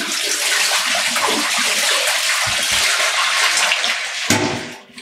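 Water from a cotton yarn dye bath is poured out in a loud, continuous gush that rushes and splashes steadily for about four seconds. It tapers off with a brief clunk at the end, and no one talks.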